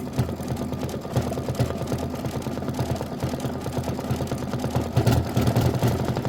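A sewing machine stitching through thick fabric while making a pillow, giving a steady, close mechanical chatter with a rapid rhythmic pulse that grows slightly louder toward the end.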